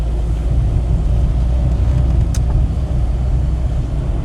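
Interior of a Wolseley Hornet classic Mini driving through village streets in Whitchurch, a loud continuous low engine drone and road rumble with a faint brief tick midway.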